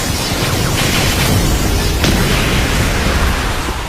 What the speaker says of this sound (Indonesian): Serangan dari Dot cukup besar hingga membuat ledakan yang sangat dahsyat.